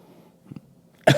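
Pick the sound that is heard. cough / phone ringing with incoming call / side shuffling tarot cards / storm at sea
cough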